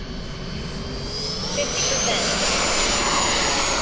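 An 80mm Tomcat model jet flying at an RC airfield, a loud rising turbine whine sweeping past overhead, with a spectator's voice briefly heard over it.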